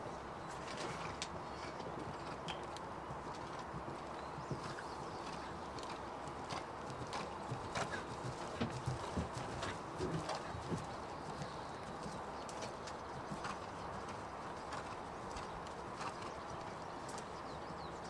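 A horse walks at a slow, even pace, its hooves clip-clopping softly against steady outdoor background noise, with faint birdsong now and then.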